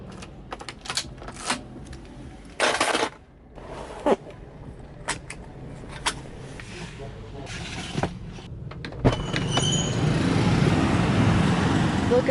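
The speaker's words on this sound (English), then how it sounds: "Look at all that Cambodian style traffic." Road traffic in Cambodia passes nearby with vehicles whooshing by and intermittent clacks and bumps, growing into a steady rumble of engines toward the end.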